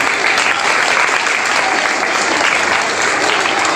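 Loud, steady applause from a seated audience at a school flower-garlanding ceremony for society members and teachers, continuous dense clapping filling the whole stretch without pause.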